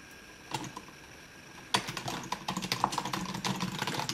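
Keys on a computer keyboard are typed in a quick burst as a command is entered to reboot a Google Nexus 9 tablet, starting with a few soft taps and then a dense, close run of clicks.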